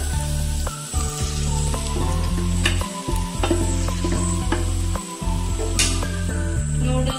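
Vegetable noodles with tomato sauce are stirred and tossed in a hot frying pan, giving a steady loud sizzle broken by repeated clacks and scrapes of the utensil against the pan.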